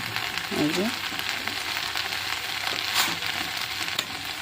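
Okra (bhindi) frying in a pan gives a steady broadband sizzle, with a few faint stirring scrapes, and no talk over it.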